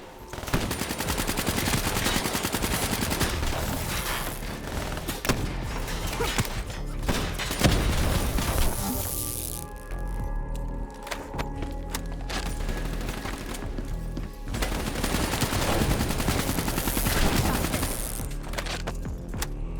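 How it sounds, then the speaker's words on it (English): Sustained automatic gunfire and explosions from a Call of Duty: Black Ops III firefight, loud and dense throughout with a brief lull in the middle before the bursts resume. "Open fire!"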